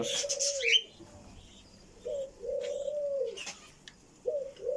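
Doves cooing in slow, low repeated phrases with short gaps, close by at a cockatiel bird farm, with a few brief higher chirps at the start.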